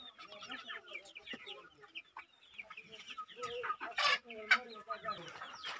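Hens on a small village poultry farm cluck and chatter in overlapping bursts up close, busy and uneven, with a sharper squawk near the end.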